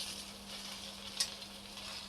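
Cowpea vegetable stirred in a pan of hot tempering oil gives a faint, steady sizzle, with a single soft scrape about midway.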